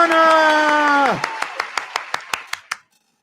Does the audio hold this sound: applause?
yes